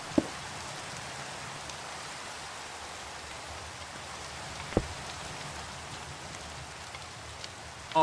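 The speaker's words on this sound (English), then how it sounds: "It's always raining." Steady rain falls in a video game, a continuous even hiss of droplets with a couple of brief sharp clicks over the top.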